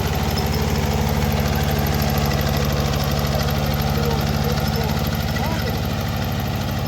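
A Kubota tractor engine runs steadily at a potato-digging job, a continuous close low chugging drone with even rhythmic pulsing throughout.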